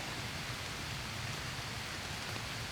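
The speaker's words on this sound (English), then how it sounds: "it started to rain on me pretty bad" Heavy rain falls steadily outdoors in deer-hunting woods, a broad, continuous wash of drops hitting leaves and ground with no pauses and no voices.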